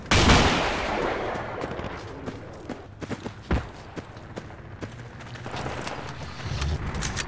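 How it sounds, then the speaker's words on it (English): Mortar rounds fire and land in the video game Project Reality, a run of sharp distant thumps and bangs at irregular intervals over a low outdoor rumble, one heavy blast standing out midway. "We could use the mortars now, I think."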